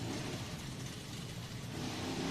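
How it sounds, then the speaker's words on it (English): A buggy's engine revs on a steep hill climb, a steady, rough mechanical roar held fairly far off and low in level, swelling slightly toward the end. "Rev it up, clear up the engine."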